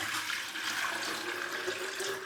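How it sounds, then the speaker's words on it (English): Liquid soap mixture poured into a garden sprayer, a steady continuous splashing gurgle of liquid filling the container, close and alone without talk. "So I'm going to put a litre in the sprayer."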